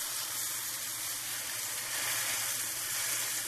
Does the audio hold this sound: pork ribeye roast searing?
yes